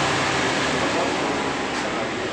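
A Toyota Avanza radiator cooling fan spins with the air conditioning switched on, giving a steady, close, broadband whooshing hum that holds at an even level throughout.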